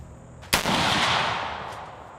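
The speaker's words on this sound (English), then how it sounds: "Nice shot, Brandon." A single loud gunshot during a hunt cracks out sharply, then rolls away in a long, fading echo over the next second and a half.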